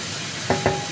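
Meat sautéed in a pan sizzles steadily, with two quick stirring scrapes close by in a short burst.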